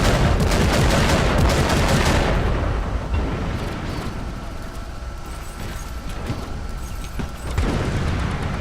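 Continuous loud gunfire and blasts from the video game Warhammer 40,000 Eternal Crusade, dense at first and then settling into a steady roar of shooting with scattered shots.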